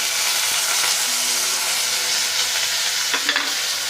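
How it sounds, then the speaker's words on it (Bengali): Potatoes and carrots sizzle in hot oil in a wok for masala noodles, a dense, steady frying hiss with a few soft stirring scrapes toward the end. "কড়াইতে তেল দিয়ে দিয়েছি, এবার আলু আর গাজরটা ভেজে নিব"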